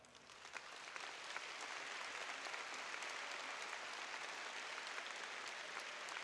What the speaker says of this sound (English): please stand and let's give them a round of applause as well